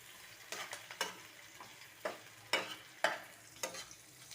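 Onions being stirred and fried in a pan as the base for a katla fish curry with cauliflower and potato: a soft steady sizzle, broken by several sharp scraping strokes of a spatula at an uneven pace, close up and with no talk.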